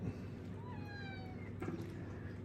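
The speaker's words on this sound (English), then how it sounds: "And the cat showed up." A house cat gives a single rising-then-falling meow, clear and fairly close, over a steady kitchen background hum while a pork shoulder joint rests nearby.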